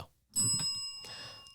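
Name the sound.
bell rung as a cussing bell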